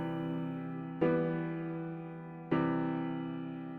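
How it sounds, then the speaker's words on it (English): A synth tone run through full-strength reverb in the FL Studio mixer sounds two struck notes about one and a half seconds apart, each swelling into a long, washy tail that fades gradually, with no talking. "full strength reverb. So you can go ahead and listen."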